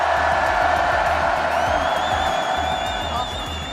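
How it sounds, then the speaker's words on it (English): A large arena crowd at the Fortnite Global Championship cheers and roars loudly and continuously, with whoops and whistles rising above the dense crowd noise, which eases slightly near the end. "This crowd is insane."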